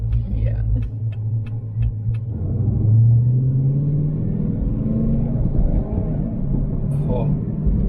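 A car engine hangs at about 3000 rpm while the clutch is released between gear changes, a low, droning rumble that climbs in pitch midway and then settles into a steady hum. A voice is faintly audible beneath it.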